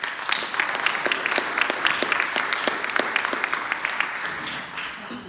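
Audience applause at a debate between an Assembly candidate and a challenger, a steady wash of many clapping hands in a hall that holds for several seconds and tapers off at the end.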